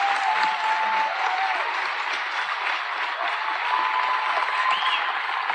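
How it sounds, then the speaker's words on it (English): A big crowd cheering and applauding at a rally, a dense, steady roar of clapping with whistles and shouts, loud and continuous throughout. "big crowd, big cheer here"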